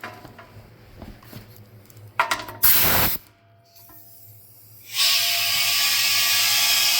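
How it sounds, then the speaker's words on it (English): An air compressor starts and runs to fill an old compressor tank rigged with a T-pipe, adapters and valve, a loud steady hiss and hum rising after brief mechanical clatter and clicks. "we'll flip that and turn the compressor on"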